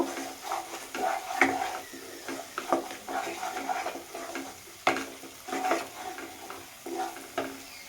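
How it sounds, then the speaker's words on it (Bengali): White mustard paste being stirred and sautéed in a pan, with soft sizzling under repeated irregular scraping and tapping of a spoon against the pan. "সাদা সর্ষে বাটা এক চামচ দিয়ে নাড়িয়ে ছাড়িয়ে আবারও কষিয়ে নেব"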